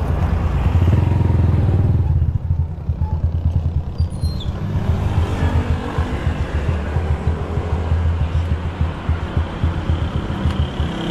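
A motorcycle engine runs close by at a steady idle, a loud low rumble with rapid pulsing that continues throughout, with faint chirping birds in the background; a motorcycle with a water seal problem.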